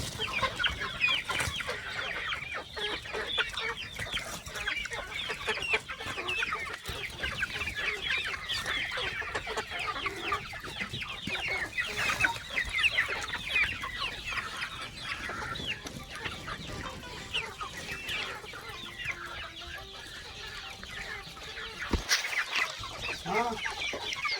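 A flock of native village chickens clucks continuously nearby, overlapping soft cackles and chatter filling the whole stretch with a busy farmyard murmur.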